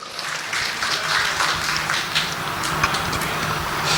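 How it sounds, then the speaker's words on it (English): A crowd at a company annual meeting and award ceremony applauds, continuous clapping over a low rumbling background hum, steady and fairly loud for four seconds with no talk. "Please give an applause to HWS."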